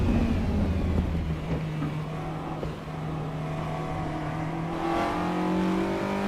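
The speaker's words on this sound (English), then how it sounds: "Is that a Honda engine?" A Honda race car engine in the racing game Assetto Corsa Evo revs hard and climbs through the gears, a loud, continuous whine that rises and dips with throttle and holds alone with no talk.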